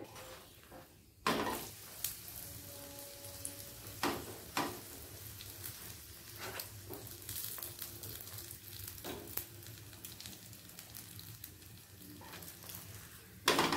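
Paneer paratha frying in ghee in a pan, a steady soft sizzle throughout with occasional sharp clicks and scrapes of a spatula against the pan.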